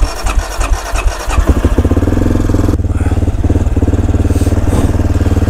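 A motorcycle, just reassembled after an injector change, cranks briefly and then catches, settling into a loud, close, rapid idle that chugs on steadily.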